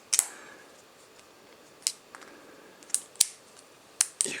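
Leatherman Squirt PS4 and Style PS multitools being opened, giving sharp, quiet metallic clicks and snaps spaced irregularly, some in close pairs, against near silence.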